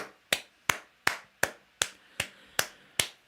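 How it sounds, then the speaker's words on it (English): Hand clapping, eight sharp, evenly spaced claps about every third of a second, fairly faint and close, with no talking. "I'm clapping that one."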